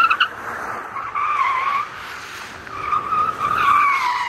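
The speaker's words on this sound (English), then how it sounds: "Legitimately the first time ever attempting to drift the Model S Plaid." Tyre squeal from a Tesla Model S Plaid attempting to drift, two long screeching skids separated by a brief lull, loud and close with no talking.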